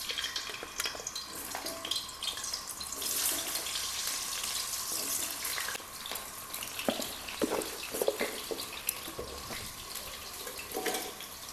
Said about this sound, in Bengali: এখন আমরা আলুটা ভেজে নেব